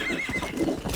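Horse in Red Dead Redemption, heard as a brief burst of clip-clopping hooves with a whinny over them, close and fairly loud.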